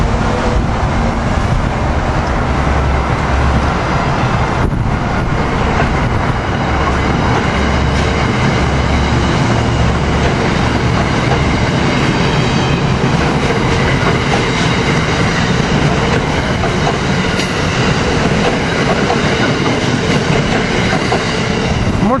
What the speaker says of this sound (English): we got Northeast Regional Train 193 leaving with ACS